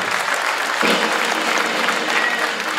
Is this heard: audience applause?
yes